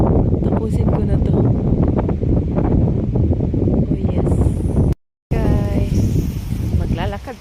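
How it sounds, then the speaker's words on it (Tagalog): Strong wind roaring and buffeting the microphone, a loud constant rush with a brief cut, voices faintly talking underneath. "Kahit malamig, malakas ang hangin."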